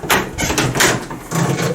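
A hotel room wardrobe door is opened, giving a few brief close knocks and a soft sliding rumble in a quiet room.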